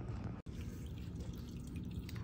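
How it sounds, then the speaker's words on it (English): Water poured into a garden compost mix, a low steady trickling and splashing heard close, with a brief break in the flow near the start and no voices. "and then I just put more water in there."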